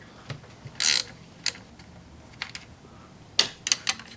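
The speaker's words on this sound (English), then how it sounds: "next we're gonna remove this nut, which is gonna require a 13mm socket or a wrench" A ratchet with a 13mm socket loosens a nut on a Chevy 3.8L engine during intake manifold work. Short clicking bursts and a brief rapid ratcheting run sound up close amid quiet pauses, with no talk.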